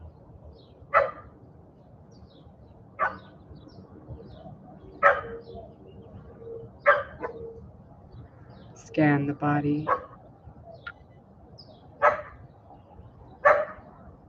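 A neighbour's dog barks outdoors in the morning, single distant barks repeating every couple of seconds with a short flurry in the middle, while a calm voice speaks over it.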